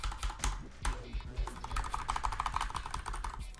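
Fast typing on a computer keyboard, a dense run of close, crisp key clicks with a few heavier strokes mixed in, going on without a break.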